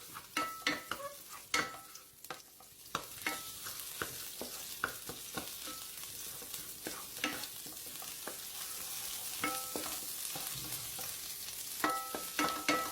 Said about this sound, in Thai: ใส่น้ำมันลงไปเล็กน้อยครับ แล้วก็ตามด้วยพริกแกงเผ็ดหนึ่งช้อนโต๊ะครึ่งครับ ผัดยีๆ ให้แตกตัวให้หมดเลยนะครับ